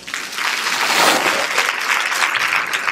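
A gala audience at a YMCA event breaks into loud applause that swells to a peak after about a second, then continues as dense, steady clapping from a large crowd.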